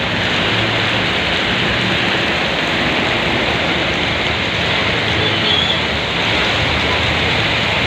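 Steady, heavy rain pours down in a constant dense hiss, with no voices.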